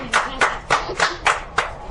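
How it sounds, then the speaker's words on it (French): Children clap their hands together at a Bible study gathering, six sharp, evenly spaced claps in a steady rhythm, close and fairly loud, with no talking over them. "on applaudit pour Wendy"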